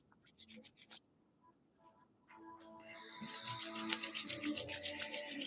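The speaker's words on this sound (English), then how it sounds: "start to rub your palms together, creating a little heat, rubbing the palms together" Palms of hands rubbing together during a Kundalini yoga class, a soft brushing friction that starts sparse and grows into continuous rapid swishing, with a voice speaking early on.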